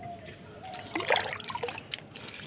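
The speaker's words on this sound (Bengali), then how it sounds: "আর এখন গাছগুলোকে জল দেবো।" Water pouring and splashing into potted plants, a short trickle building to a brief burst of splashing before easing off, fairly close and moderately quiet.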